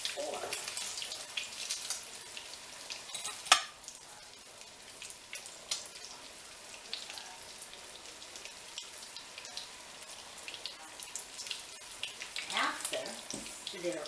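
Eggplant slices fry in oil with a steady, fine sizzle and crackle, plus a few louder pops and clinks, and a voice speaks faintly in the background.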